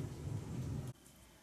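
Deep rolling thunder from a storm rumbles loudly for almost a second, with a rain-like hiss above it, then cuts off abruptly into quiet background.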